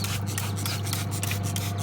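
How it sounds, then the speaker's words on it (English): Rapid bursts of spraying water mist into a baby chick brooder, a rhythmic series of short hissy pumps close by, over a steady low hum. "And then just spray this a lot"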